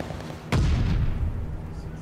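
A single loud, close burst of gunfire at the hardpoint in the WWII shooter Call of Duty: Vanguard, a sharp boom that rumbles and fades over the next second and a half.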